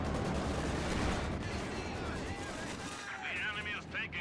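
Heavy mortar artillery barrage in the Company of Heroes 2 strategy game, a dense, continuous rumble of distant blasts and crackling fire with whistling shells near the end, under faint talk.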